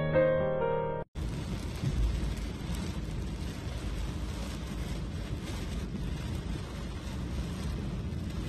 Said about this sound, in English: a powerful thunderstorm swept across Rome, Italy, bringing torrential rain, stormy winds and lightning